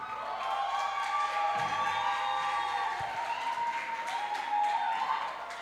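A church congregation applauds as a pastor is invited up, a soft, continuous wash of clapping and light cheering in a large room, fairly distant and steady throughout.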